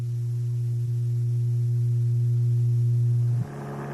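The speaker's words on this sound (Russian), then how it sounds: "Этот звук имеет частоту 120 Гц" A steady low 120 Hz test tone holds loud and constant for over three seconds, then cuts off abruptly near the end as a brief noisy disturbance follows.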